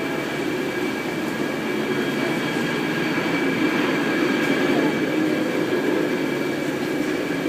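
A steady, loud mechanical rumble and hum of a moving cable car, continuous with faint whining tones and no voices.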